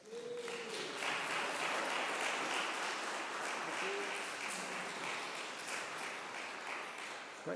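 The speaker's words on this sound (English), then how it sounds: "So please give an applause for Paul Gravett." An audience at an opening lecture on comics applauds the lecturer Paul Gravett, a steady, dense wash of clapping that holds evenly for about seven seconds in a hall, with a faint voice briefly audible beneath it.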